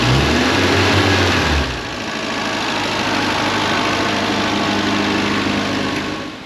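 A loud rock crawler engine idles steadily with a deep, throbbing hum. Its tone shifts slightly after a couple of seconds, then holds a rough, even rumble.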